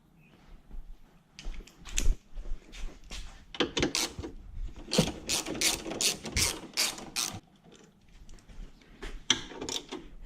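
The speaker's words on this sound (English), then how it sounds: "And then I'm undoing 2 sway bar mount brackets, just 2 12mm headed bolts on each side." Ratchet wrench loosening 12mm-headed bolts on the sway bar mount brackets of a Lexus LS430 (Toyota Celsior, 3UZ-FE), with rapid clicking bursts in repeated runs, close and fairly loud, with no talking.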